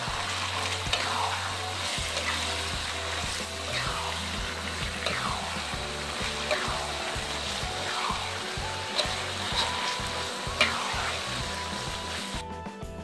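Pounded beef frying with chili in a pan gives a steady sizzle with occasional stirring scrapes and clinks, close and continuous over background music.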